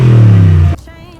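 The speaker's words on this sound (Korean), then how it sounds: "배기음을 한번 들어볼까요?" A BMW X5 E70 with the 4.4-litre V8 sends out a loud, deep, steady exhaust drone that cuts off abruptly, leaving a quieter idle with faint clatter.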